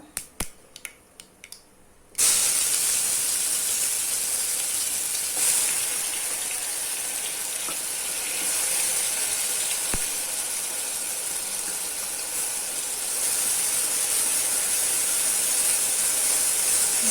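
A ground paste of small shallots, ginger and garlic hits hot oil after a few light clicks, then sizzles loudly and steadily for the rest of the time, close and alone.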